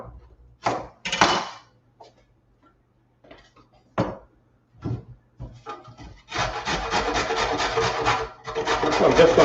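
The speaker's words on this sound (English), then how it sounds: "So I'm just going to grate it." Carrot rubbed against a kitchen grater in a few short rasping strokes, then a longer, steady run of close, loud scraping that continues to the end.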